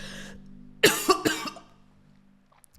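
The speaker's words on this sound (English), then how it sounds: "Confirmation cough." A person coughs a few times in a short, close burst after a low hum, then quiet.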